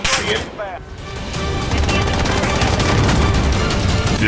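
Gunfire in a Modern Warfare multiplayer video game: loud, dense bursts of rapid shots that start with a brief lull and then build into sustained, overlapping fire through to the end.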